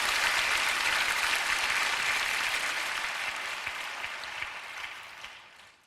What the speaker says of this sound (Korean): 하나님께 박수 올려드리시죠.